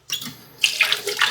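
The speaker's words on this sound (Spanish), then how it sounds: "ya que está la pasta bien cocida, tenemos que tirar el agua caliente" Hot water from freshly cooked pasta is poured off in a steady splashing rush, loud and close, with a brief pause before a heavier gush.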